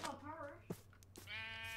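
Sheep in a survival video game bleat twice in quick succession, wavering, nasal calls close and clear, with a brief sharp hit between them and a player's voice partly overlapping.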